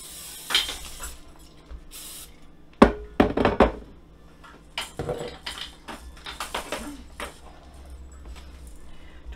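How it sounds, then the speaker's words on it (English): Cooking spray hisses in short close bursts onto a pan, followed by clattering pans, clinking utensils and knocks during kitchen food prep, with little talking. "First thing I'm gonna do is spray down my pan."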